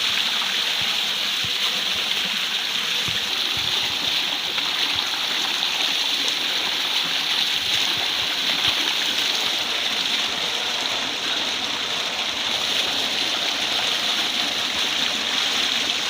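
Cold water gushes steadily from a solar-powered pump during bathing on a hot day in a village, a loud, continuous close-up splashing flow with no talk.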